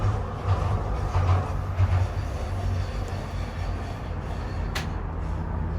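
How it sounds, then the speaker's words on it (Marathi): A DLR train rolls past in London near the Emirates cable car, a steady rumble of wheels on track under open-air ambience, with one brief high squeal near the end. "ते पळय DLR ट्रेन म्हणटा न्ही ते पळय हिंगासून दिश्टी पडटा"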